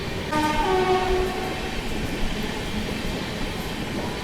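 Mumbai Rajdhani Express leaving New Delhi: a steady rumble of wheels on rails with a brief horn-like tone near the start, heard from on board and continuous throughout.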